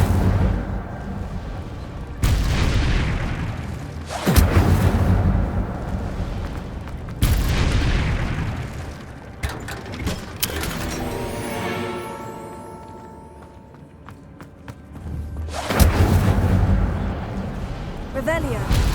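Incendio fire spell in the Hogwarts Legacy video game, loud booming bursts recurring every few seconds with crackling tails and a swirling magical texture between them, and a voice calling out spells over the effects.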